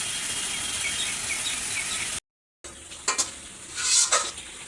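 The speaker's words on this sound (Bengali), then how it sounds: "তো এখন এই যে আমি মশলাটাকে ভালো করে কষিয়ে নেব।" Masala is stir-fried in hot oil for a village-style baghair fish curry, giving a steady close sizzle with spoon scrapes. A brief silent gap interrupts it, and sharper stirring clatters follow.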